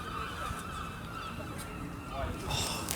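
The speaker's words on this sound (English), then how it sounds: "Yeah, the seagulls." Seagulls call at a riverside quay in Exeter, their harsh honking cries rising a few times over steady outdoor background noise.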